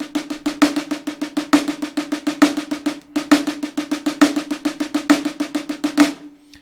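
A snare drum plays a steady, rapid stream of crisp strokes in two groups of six, with regular accents marking each group. The strokes are close and clear, with a short gap midway and a sudden stop at the end.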